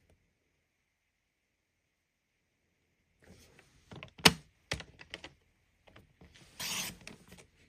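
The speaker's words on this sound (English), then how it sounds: "I'm going to bring in my paper trimmer, and with it turned the long ways, we're going to cut off a 5 1/4 inch strip." A paper trimmer slices a long strip of designer paper for a card: after a silent start come close scraping and clicking strokes of the blade, then a brief sliding rasp near the end.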